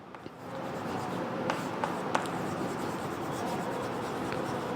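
Chalk or marker writing on a classroom board during a Class 7 math lesson, a steady scratchy scrawl with a few sharper taps, fairly quiet against room noise.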